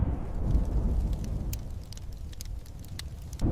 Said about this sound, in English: Far away, a storm was rising.